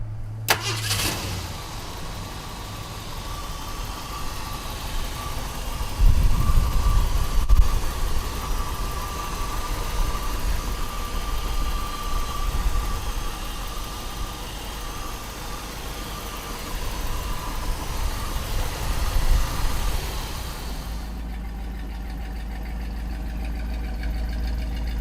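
A 1968 Ford Mustang engine cranks and catches, then settles into a steady, rumbling idle close by that runs for about twenty seconds before cutting off.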